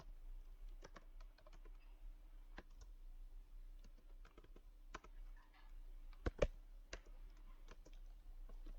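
Typing on a computer keyboard, close and quiet: irregular clicks in bursts with short pauses, over a low steady hum and no talk.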